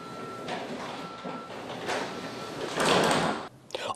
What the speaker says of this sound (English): when I pull the rope, the trolley will disconnect from the attachment point